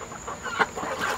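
Chickens of a couple of different breeds, with roosters and hens together, make soft, scattered clucks at a moderate distance, with one brief louder call standing out in the middle.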